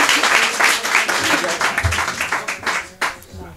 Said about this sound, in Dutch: Mag ik nog een applaus voor de volgende dichter in dit blokje?